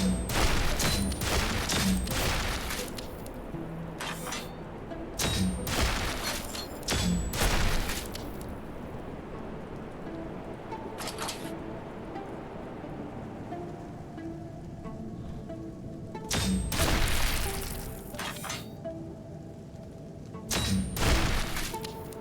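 Grenade explosions in the game Heart of the Machine: a series of loud, heavy booms and blasts in irregular bursts, with rumbling tails and quieter stretches between them.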